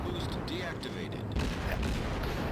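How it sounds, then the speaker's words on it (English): Warship guns firing at the destroyer Mutsuki in World of Warships, deep booming artillery blasts and rumble running continuously, with a heavier boom midway. "I shoot the Mutsuki"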